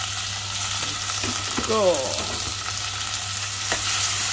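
Tomatoes frying and being stirred in a pan for a clam dish, giving a steady sizzle with occasional scrapes, while a person speaks briefly over it.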